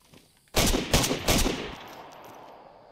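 Gunfire in the video game DayZ on the Livonia map: three loud, close gunshot bursts in quick succession over about a second, each followed by a decaying echo tail that fades slowly.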